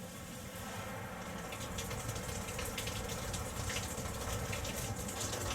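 Water sprays steadily from a StoneStream shower head at a campground in a continuous, even hiss that fills the space without pause.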